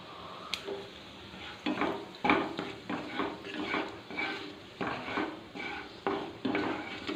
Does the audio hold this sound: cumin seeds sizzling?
yes